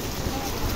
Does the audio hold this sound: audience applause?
no